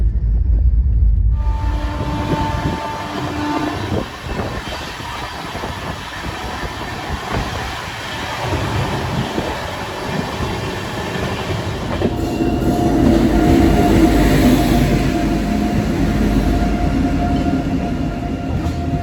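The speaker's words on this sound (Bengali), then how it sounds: "ট্রেন ঢুকছে আন্দুল স্টেশন।" A passenger train rumbles loudly along the rails entering Andul station, with a steady rolling roar rising as it runs, faint clanks and a brief squeal.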